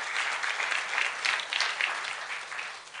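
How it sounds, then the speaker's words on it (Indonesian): Church congregation applauding, a dense, steady wash of many hands clapping continuously for a few seconds, fairly loud and unbroken, with no talking over it. "Tepuk tangan buat Tuhan Yesus."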